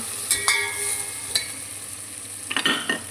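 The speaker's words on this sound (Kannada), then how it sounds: "ಈಗ ನಾವು ತುರಿದಿಟ್ಕೊಂಡಿದ್ದಂತಹ ಕೊಬ್ಬರಿ ತುರಿನ ಆ್ಯಡ್ ಮಾಡಿಕೊಳ್ಬೇಕು ಚೆನ್ನಾಗಿ ಒಂದ್ಸಲ ಮಿಕ್ಸ್ ಮಾಡೋಣ" Grated coconut is stirred into a hot pan of fried ingredients while making millet bisibele bath, with soft sizzling under scattered scrapes and clinks of a spoon against the pan.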